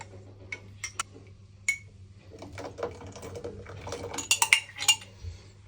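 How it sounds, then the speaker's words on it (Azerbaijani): Half a glass of yogurt is mixed with milk, a utensil clinking and tapping lightly against the container in scattered bursts that grow busier toward the end, with a low steady hum underneath. "Yarım stakan qatıq, yarım stakan sütlə qarışdırıram."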